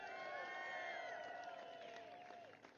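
A crowd at an outdoor Make America Great Again political rally with Vice President Mike Pence cheers and applauds steadily, a dense wash of clapping and whoops that slowly tapers off toward the end.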